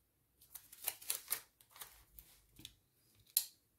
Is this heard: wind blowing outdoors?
no